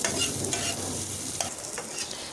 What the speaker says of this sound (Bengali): এখন মরিচ আর পেঁয়াজটা ভালো করে ভেজে নেব